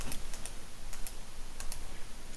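Quiet, sharp clicks from a computer mouse, picked up close by a desk microphone during a Retro Bowl game, scattered irregularly across a faint background with a few soft keyboard-like taps.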